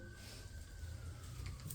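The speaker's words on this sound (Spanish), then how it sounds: "ahí en la ambulancia" An ambulance siren passes at middle distance, a sustained wailing tone that drifts slightly lower in pitch over a continuous low rumble of traffic, with no one talking over it.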